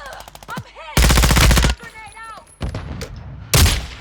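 Loud automatic gunfire in the video game WarZone 2.0 comes in two long dense bursts, followed by a shorter burst. Single shots and other game effects fall between them, with a player talking.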